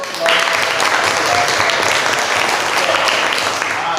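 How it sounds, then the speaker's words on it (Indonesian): Audience applause at a teacher-training classroom practice session in Indonesia, a steady loud burst of clapping that starts abruptly and holds evenly to the end, with no voices over it. "Kita beri tepuk tangan untuk"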